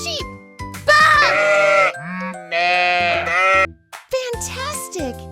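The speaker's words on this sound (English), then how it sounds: "It's a sheep! Bah!" Two loud sheep bleats follow one another in a farm-animal quiz for kids, framed by cheerful child-directed speech and music.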